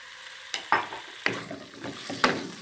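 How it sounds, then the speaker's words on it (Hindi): Chicken frying in about two teaspoons of oil in a kadai, with soft sizzling and several sharp scraping stir strokes spaced irregularly across a short quiet stretch. "और मैं ये चिकन को ज़रा थोड़ा फ्राई कर लूँगा।"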